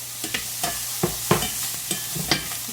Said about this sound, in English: And next I'm going to add my peppers.